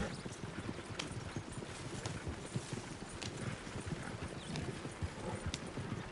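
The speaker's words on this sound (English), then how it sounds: "I love being able to go full speed on the horse" A horse galloping at full speed in a video game, with rapid, even hoofbeats thudding in a continuous clip-clop rhythm under faint background game ambience, fairly quiet overall.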